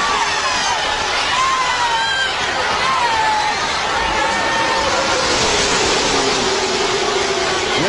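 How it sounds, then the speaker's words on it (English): A huge NASCAR crowd of about 170,000 roars as stock cars race toward the finish, a loud continuous din with engine whines sweeping past through the noise. "listen to this crowd of"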